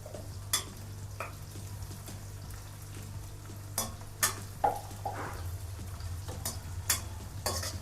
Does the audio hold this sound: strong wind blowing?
no